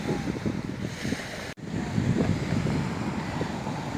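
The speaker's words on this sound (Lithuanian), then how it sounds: "Vėjas nemažas, bet toks gaivus, šiek tiek atvėsina maloniai" Strong wind buffets a seaside town, a steady broadband roar with gusty surges and a brief dropout mid-clip, close and fairly loud with no voices.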